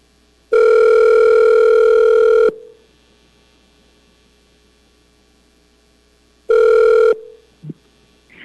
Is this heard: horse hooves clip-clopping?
no